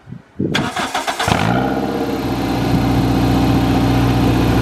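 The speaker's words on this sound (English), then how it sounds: "that will be the sound without the silencer on it" A 2005 Toyota MR2 engine with its exhaust silencer removed cranks and catches, then settles into a loud, raw, rumbling idle with an unmuffled, harsh exhaust roar, steady and close.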